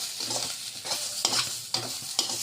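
Ginger and garlic frying in a pan, a bright steady hiss of sizzling oil punctuated by a few distinct stirring scrapes and clicks, close and fairly loud with no speech.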